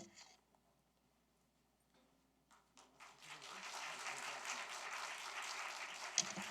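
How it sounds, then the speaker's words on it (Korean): A church congregation breaks into applause to welcome a missionary, starting faint and scattered, then swelling into a steady, moderately distant clapping that fills the room and holds to the end. "우리 선교사님 나오셔서 인사하실 때 우리 큰 박수로 우리 환영하도록 하겠습니다."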